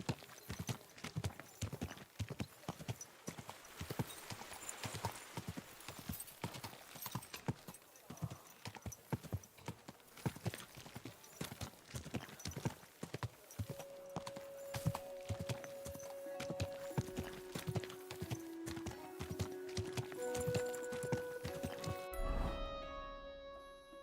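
Horse hooves clip-clop steadily and briskly on hard ground in Kingdom Come Deliverance 2, a continuous close trotting rhythm lasting throughout, with occasional tonal game sounds toward the end.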